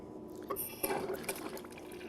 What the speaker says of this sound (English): Then start the water flow.